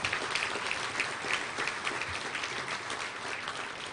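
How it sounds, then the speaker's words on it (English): An audience at a touchdown club luncheon applauds sponsors, a dense sustained round of clapping at moderate loudness with no speech. "Let's give a big round of applause for all of our great sponsors."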